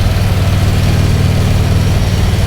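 Motorcycle engine fitted with an S&S 465 cam, cruising on the road with a steady, loud, low rumble that stays even and unbroken throughout, with no talk.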